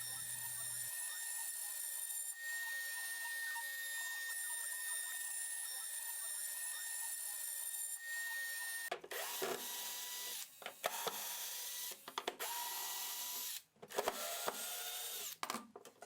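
A CNC machine carving 3.5 mm channels in wood with a 3 mm bit gives a steady high whine, then shifts into harsher, uneven cutting noise with brief drops and bursts.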